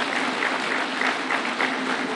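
Audience applause at a devolution conference in Kenya, a steady dense clapping that holds evenly throughout without pause, fairly loud and filling the hall.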